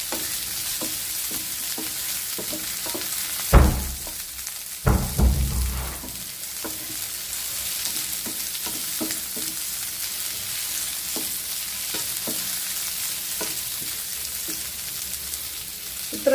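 Radish pieces frying in hot oil for Tamil Nadu-style radish dal sambar make a steady close sizzle, broken by a few loud stirring scrapes and clatters near the start.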